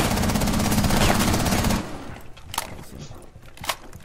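Automatic gunfire from Rainbow Six Siege rattles in a dense, loud burst for under two seconds, then gives way to scattered quieter clicks and thumps of game action.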